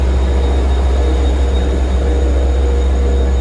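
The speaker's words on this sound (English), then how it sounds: "Oh man, these things are super loud." M9 commuter train led by engine 412, a D30AC, roaring loudly and continuously nearby with a thick, unbroken low rumble.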